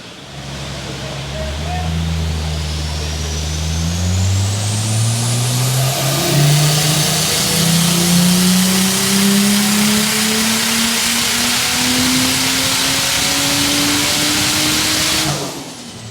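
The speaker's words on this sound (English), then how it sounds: "Bloody thing's loud as these screamer pipes." A Ford Barra engine making 512 kilowatts on a dyno, fitted with screamer pipes, revs loudly and steadily through a long sweeping pull, its pitch climbing for about fifteen seconds before cutting off abruptly, with voices barely audible beneath.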